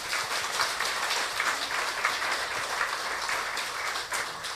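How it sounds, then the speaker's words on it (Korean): A church congregation claps in steady, moderately loud applause for young members who staged a performance, a continuous wash of hands with no talking. "우리 청년들 진짜 박수 한번 쳐주시다 보니."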